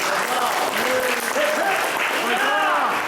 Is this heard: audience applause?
yes